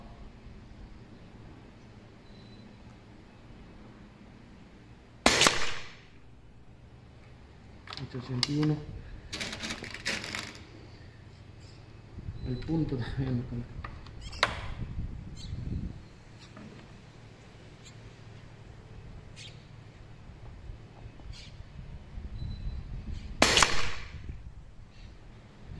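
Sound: shots from R3 800 bullpup PCP air rifle, 6.35 calibre

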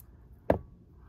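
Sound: multi-tool scissors cutting

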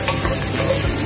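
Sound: onions and chopped ginger frying in a pan

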